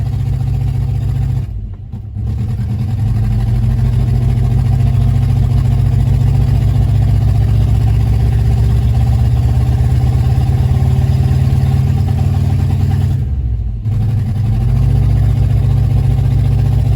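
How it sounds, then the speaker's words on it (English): A car engine on drive ramps runs and revs with its wheels spinning free, a loud continuous mid-pitched roar that holds steady for long stretches, broken by two brief drops around the two- and fourteen-second marks. "Boy, it accelerates great with no resistance."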